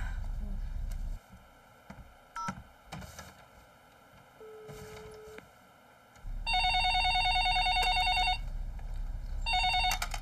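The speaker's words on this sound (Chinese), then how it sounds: "给妈妈接个电话啊" A landline telephone rings loudly in a quiet home, with a steady repeating electronic trill in two bursts that follow soft movement and shuffling.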